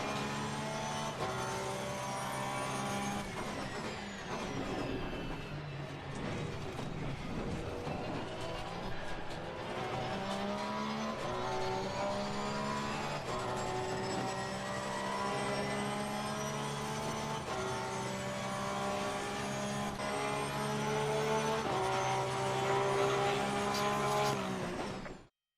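Race car in Assetto Corsa Competizione lapping a circuit, its engine whining and revving steadily through upshifts and downshifts with brief tire squeal, loud and continuous until an abrupt stop at the end.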